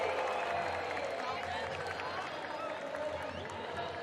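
A large esports arena crowd at an IEM Rio 2023 Counter-Strike playoff match between Team Vitality and BIG roars with sustained cheering and applause, a dense continuous wash of noise that stays loud throughout.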